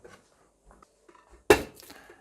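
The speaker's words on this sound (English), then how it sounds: "On with the lid." A lid is set onto a large casserole pot, a single sharp metallic clank near the end after faint kitchen shuffling, ringing briefly before fading.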